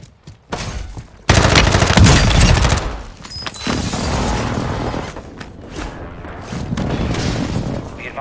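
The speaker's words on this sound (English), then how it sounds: "Hostile airstrike near your location." Airstrike explosions and gunfire in Warzone 2 on Ashika Island: a sudden loud booming blast, then sustained rumbling and crackling shots under radio-style game voice callouts, with further bursts of fire toward the end.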